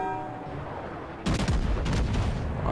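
The enemy battleship Kongo fires its guns in the naval game World of Warships Legends: after a quiet stretch, a loud, booming salvo erupts and rolls on with rumbling blasts to the end.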